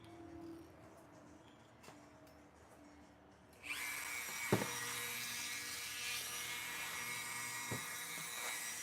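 A Dremel rotary tool grinds away supports on a 3D print. A faint, quiet stretch gives way to a sustained high-pitched whine from the bit, close and steady, with a few short clicks and knocks.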